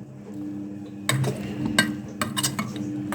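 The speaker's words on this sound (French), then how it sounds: "on remue bien correctement les oignons et l'ail ensemble" Utensils scrape and clink against a pot while stirring onions and garlic, in a series of uneven strokes, close by, with soft rustling between the sharper knocks.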